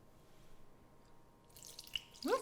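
Two tablespoons of raw apple cider vinegar go into a peanut slaw dressing, heard as a faint, brief trickle and a few drips near the end after near silence.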